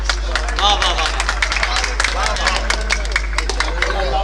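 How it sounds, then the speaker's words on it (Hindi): An audience at a mushaira in Jaleelpur, Bulandshahr claps to welcome a poet, brisk scattered claps from a nearby crowd over a constant low hum, with some voices mixed in. "जोरदार तालियों के साथ इस्तकबाल कीजिए"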